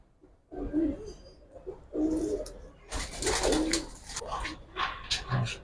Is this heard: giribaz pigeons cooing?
yes